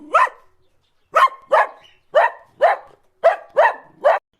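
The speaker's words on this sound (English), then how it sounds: "Dog." A dog barks loudly and close by: one bark, a short pause, then a quick run of about seven sharp barks in an uneven rhythm, with no voices.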